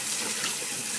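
Steady water runs from a kitchen faucet as eggs are cooled under it, making a continuous, close, full hiss with no pauses throughout.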